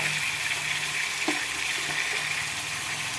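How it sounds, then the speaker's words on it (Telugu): Onions and green chilies fry in hot oil with a steady, close sizzle that holds evenly throughout, with a faint stir scrape near the middle and no talking. "ఉల్లిపాయలు, పచ్చిమిరపకాయలు బాగా వేయించుకుందాం"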